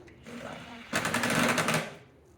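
Power tool whirring as it tightens the top bolt on a rear headlight assembly of a 2014–2021 BMW i3, a short buzzing burst of about a second, close and loud, with a voice speaking around it.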